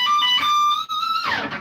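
An electric guitar with distortion plays a fast series of diminished arpeggios. Sustained, bright notes ring out alone for a moment, then slide downward and fade at the end.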